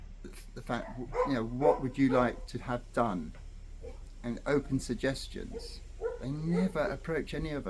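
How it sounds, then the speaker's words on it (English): A pet dog barks and yips intermittently close by, mixed in with a person talking continuously over it indoors. "That's my dog."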